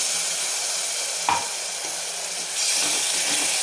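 Water poured into sizzling fish-curry masala that has been roasted in oil: a steady bright frying hiss with a short sharper burst as the water hits, then louder continuous sizzling.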